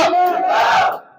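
A large crowd at a political rally in a theatre in Nandyal roars and shouts together in one sustained, loud cheer that swells and then fades near the end.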